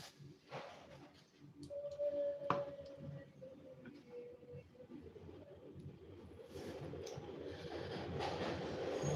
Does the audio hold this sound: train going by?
yes